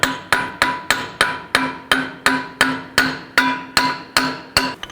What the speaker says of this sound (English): Just lightly tap the axle